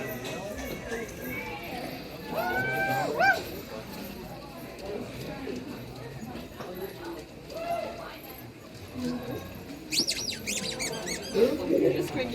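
A squeaky toy squeaks in short high bursts at a crowded furry convention, Furlandia 2022, amid busy background chatter and crowd noise.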